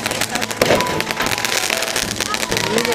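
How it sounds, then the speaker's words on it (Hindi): Firecrackers bursting at a village wedding in India, dense crackling pops and bangs running throughout amid crowd noise and voices, loud and close. "यहाँ पर लड़की के दरवाजे पर ये जो है बम फूटा जा रहा है"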